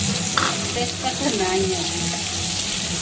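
Onions fry with chicken in a pan, a steady close sizzle with stirring, while a person speaks briefly over it.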